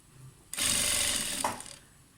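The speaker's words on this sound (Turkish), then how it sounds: "Ben önce şöyle düz dikişte dikiyorum." Sewing machine running a straight stitch on trousers, one continuous whirring burst of about a second and a half that starts abruptly and then trails off, close up with no talk.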